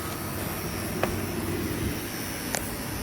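The AC compressor of a 1996 Ford F150 spins with a steady, airy whir and hiss under the hood, broken by a couple of faint clicks.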